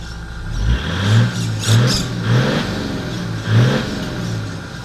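A car engine revs up hard in repeated bursts, four or five deep surges rising and falling over a steady rumbling idle, loud and close.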